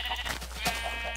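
Sheep bleat in a video game, with one short wavering call followed by another, fairly close and clear over a faint steady background hum.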